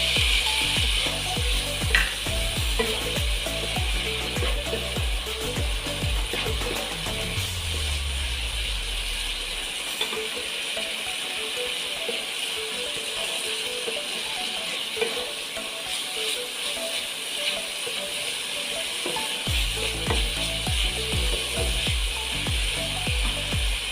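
Chickpeas and potatoes stirred in a pan for chole masala, with repeated scraping and clicking strokes of a spatula over a soft steady sizzle, close and rhythmic, pausing briefly midway before resuming.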